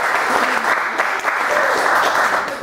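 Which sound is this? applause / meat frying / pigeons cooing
applause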